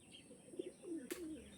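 Expensive dragon-face pigeon cooing: a soft, low, rounded coo repeated a few times, close but quiet, with a faint rustle and a brief sharp tap partway through.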